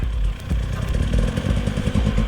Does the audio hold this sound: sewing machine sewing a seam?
no